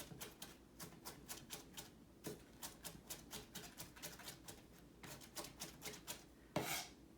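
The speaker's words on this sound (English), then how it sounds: "Next, you want to prepare your ginger and mince the ginger" A knife mincing ginger finely on a cutting board makes rapid, even chopping taps in quick runs, close and fairly quiet, with a short scrape near the end.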